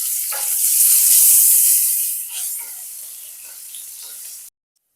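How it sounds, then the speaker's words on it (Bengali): Potatoes fry in oil with turmeric and salt, a loud close hissing sizzle that swells early, eases off with a few stirring scrapes, then cuts out abruptly. "আলুগুলোকে ভেজে নেব।"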